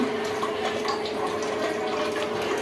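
Strongly acidic water pours steadily from a Kangen water ionizer machine, a faint, continuous rushing flow with no one speaking.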